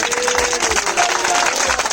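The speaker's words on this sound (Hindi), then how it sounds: "एक बार उस जीवित प्रभु के लिए जोरदार ताली बजाइए" Congregation at a Sunday church service in Punjabi Bagh gives hearty applause for the Lord, a dense, steady wash of many hands clapping at once, close and loud for about two seconds.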